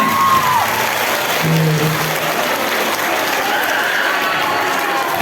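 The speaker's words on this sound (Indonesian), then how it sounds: "Coba yang jomblo tepuk tangannya mana?" Audience clapping at a student motivational seminar, a steady dense patter of many hands throughout, with a brief tone and faint voice early on.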